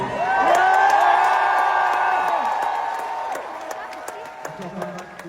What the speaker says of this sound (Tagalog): it is fever pitch atmosphere. The crowd rises.